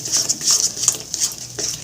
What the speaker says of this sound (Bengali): নাড়িয়ে যাব, যাতে কড়াতে লেগে না যায়।